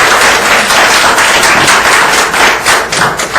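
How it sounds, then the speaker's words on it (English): Indoor audience at a luncheon claps, dense loud applause from many hands filling the room steadily with no pause, close and continuous throughout. "Let's give her a round of applause"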